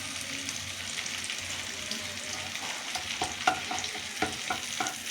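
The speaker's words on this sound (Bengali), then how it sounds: "শুকনো লঙ্কাটা একটু ফাটিয়ে দিলাম।" Continuous hiss of dried red chilies frying in oil, with stirring scrapes and small pops that grow more frequent in the second half.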